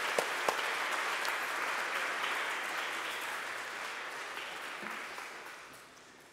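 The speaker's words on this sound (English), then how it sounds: "let's give a round of applause for Carrie and her 30 years of service here." A church congregation at Sunday worship claps in steady, sustained applause that slowly fades toward the end, fairly distant and with no voices over it.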